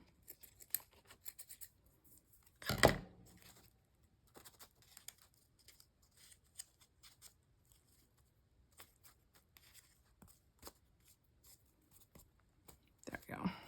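Scissors snipping cheesecloth for a Bible journaling craft page, with a loud close cutting burst early, then scattered small snips and rustles at a quiet level, and a few more clipping sounds near the end.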